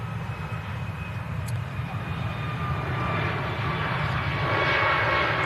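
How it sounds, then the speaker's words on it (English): A white TUI airliner taxis out at an airport, its jet engines making a steady broad roar with a faint whine that slowly grows louder, heard from a distance with no one talking. "this white TUI taxiing out now"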